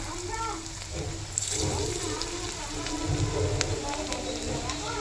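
Chicken and cabbage pakora frying in hot oil give off a steady, dense sizzle and crackle that stays close and constant throughout.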